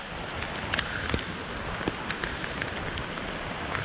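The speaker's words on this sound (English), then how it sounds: "Yep, the rains are here." Steady rain pours down in a mangrove forest beside an open cooking fire, a dense continuous hiss with scattered drops pattering close on nearby surfaces.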